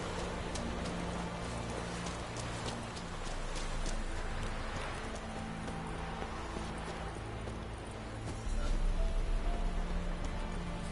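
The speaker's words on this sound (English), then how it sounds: "Trying to remember how to call my horse." Horse hooves clip-clopping at a gallop in the video game The Witcher III, a fast, steady clatter of hoofbeats over a rushing background, moderately loud, with someone talking intermittently.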